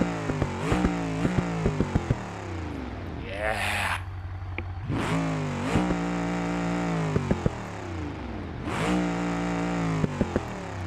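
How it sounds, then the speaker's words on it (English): A modernized Barstow engine in a race car built from truck parts revs repeatedly in BeamNG.drive, loud rising and falling sweeps close by with short pops between them and one brief spoken word. "modernized Barstow engine in here."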